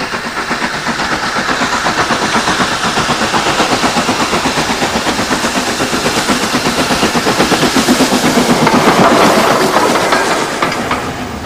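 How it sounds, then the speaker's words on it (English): An old steam train on England's private Bluebell Railway, heard as a loud, close, continuous rolling rumble with a fast steady clickety-clack of wheels over rail joints throughout. "They only have old steam engines here and beautiful old carriages."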